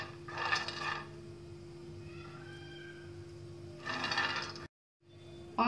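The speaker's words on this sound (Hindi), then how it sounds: "ये पीनट्स हम एक पैन के अंदर रोस्ट करेंगे" Peanuts roasting in a pan over a medium flame, two bursts of dry rattling and scraping as they are stirred, close, with a low steady hum between and a brief cut to silence.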